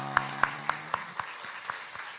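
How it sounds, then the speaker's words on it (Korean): Sparse, evenly spaced claps ring out in a church, about eight sharp single hits that grow softer toward the end, with a faint low hum underneath at the start. "박수를 한번 뜨겁게 환영해 주세요"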